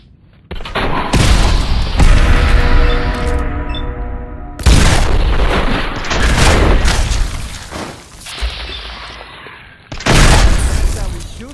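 Heavy gunfire in Fallout 4, with several loud bursts of booming shots separated by brief lulls of quieter ambience, punchy and close.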